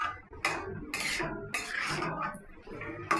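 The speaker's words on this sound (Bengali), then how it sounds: "একটু নাড়াচাড়া করে নিই" A spoon scrapes and clanks around a pot of soybean and potato curry with added water, producing close, repeated stirring strokes with short pauses between them.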